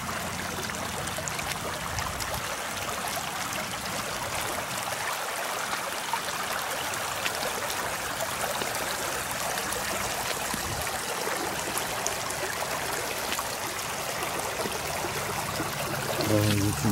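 Fast autumn flood water rushes through a stream, a dense continuous roar and gurgle that fills the whole clip, close and loud, with a louder splash near the end.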